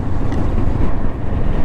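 Strong monsoon wind buffets an open hillside plateau in the Kaas Pathar flower valley of Maharashtra, a loud, steady rushing roar with gusty microphone rumble and no speech.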